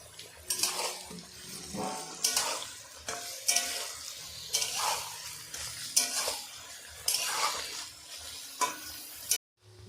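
Capsicum and salted mixed vegetables are stir-fried in a pan for fried rice. A spatula scrapes and tosses them in roughly seven rhythmic strokes over a soft sizzle, then the sound stops abruptly.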